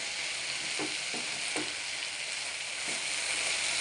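A potato fry with coriander powder and chilli powder stirred in a pan produces a dense, steady sizzle, with several soft spoon scrapes spaced through it, close and continuous with no speech.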